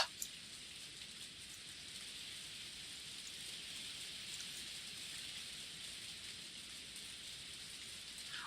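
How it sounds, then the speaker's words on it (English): Heavy, typhoon-like rain from the Umineko visual novel game pours as a steady, dense hiss that holds at an even level for the whole stretch, with no voices over it. "It was like a fucking typhoon outside."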